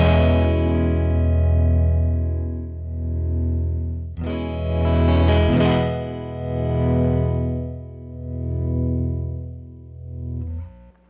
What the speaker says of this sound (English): That good old tremolo sound. Let's turn the rate down.